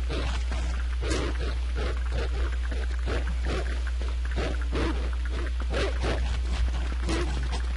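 Rough growls and snarls from several hound puppies attacking in the video game Don't Starve, over constant game music and a low hum, with short harsh bursts repeating through the whole stretch.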